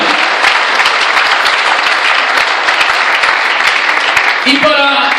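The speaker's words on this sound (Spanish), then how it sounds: "den un aplauso a Jesús en esta tarde" A church congregation bursts into loud, close, continuous applause during an afternoon sermon, and a voice begins speaking over the clapping near the end.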